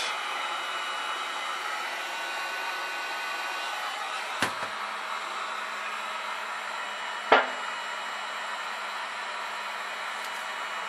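A heat gun warms a part during restoration of an Admiral T-102 radio, blowing a steady, even airy roar at close range. Two brief knocks sound partway through.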